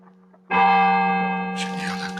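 A clock bell strikes once, loudly and close, its ringing tone lingering and slowly decaying, with a voice speaking briefly over the tail of the ring.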